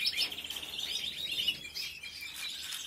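A young bird about twenty days old chirps during ringing, giving a rapid string of thin, high, close tweets that keeps on through the clip with no speech.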